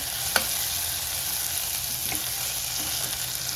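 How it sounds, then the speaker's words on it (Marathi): Garlic and tomato sautéing in oil in a kadhai for moong dal varan, an even, steady sizzle with a couple of faint stirring clicks; no talking. "आता टोमॅटो टाकून घेऊया. टोमॅटो पण छान परतून घ्यायचा मस्त."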